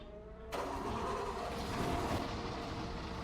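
A farm vehicle engine catches and starts after a short quiet moment, then settles into a steady rough idle with a low rumble.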